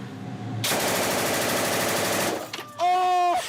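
Soviet army heavy machine gun fires a sustained, rapid burst of loud, dense shots for about two seconds, followed by a brief pause and a short whining, tonal rush.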